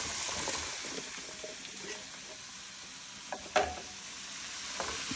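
Chopped bottle gourd dropped into a hot pan and stirred, a steady hiss of sizzling with wet splats and a couple of clattering stirs, close, with no voices.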